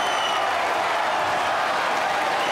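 Crowd at a ping pong championship semi-final applauds loudly and steadily, a dense wash of clapping with scattered cheers filling the whole stretch.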